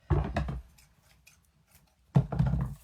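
Scissors cut through thick raffia in two close, crunchy bursts of snipping separated by a quiet pause of about a second and a half.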